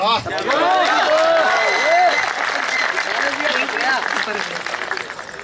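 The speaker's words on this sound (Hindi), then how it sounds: "जोरदार तालियां मैम के लिए, जोरदार तालियां" Loud, sustained applause from a crowd at a network marketing motivational talk, with scattered cheering and voices over the clapping throughout.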